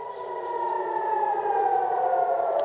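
A steady air raid siren wails in a long, sustained tone that slowly sinks in pitch, loud and continuous with no voices.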